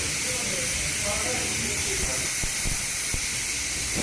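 Steady pressure-cooker steam hiss while masale bhat cooks on a gas flame at normal heat, a broad continuous rush filling the whole span with a few faint clicks underneath.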